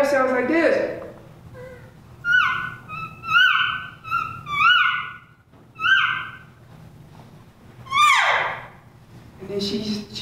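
A person imitates an elk calf's call with a voice or call, giving a series of short, high, whiny mews at varied pitch, several in quick succession, then a longer descending squeal, with a brief voice at the start and end.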